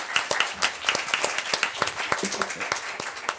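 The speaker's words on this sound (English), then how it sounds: "So I'd like to give a big round of applause for the parents here." A crowd claps steadily in a short round of applause for the parents at a gathering. The claps are close and crisp and continue for a few seconds without speech.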